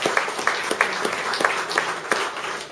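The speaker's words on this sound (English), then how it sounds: "I know you'll give this man a good round of applause" An audience at a motorbike show applauds a rider invited on stage, a short burst of close, steady clapping from a modest crowd without voices.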